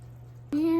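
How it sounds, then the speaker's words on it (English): Water starts pouring into a simmer pot at home, a sudden steady splashing stream with a rising tone as the pot fills, close and clear over low background hum. "Now I'm gonna go ahead and add my water."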